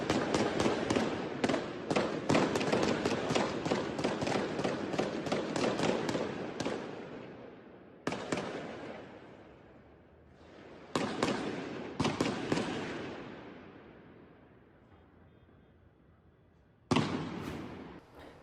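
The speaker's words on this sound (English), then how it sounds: "Gunmen arrived in cars and started shooting at other cars parked in front of a mall." Gunfire outside a shopping mall in Guadalajara, caught in news footage: a rapid volley of sharp cracks, then a few isolated shots that ring and fade, followed by one last loud report.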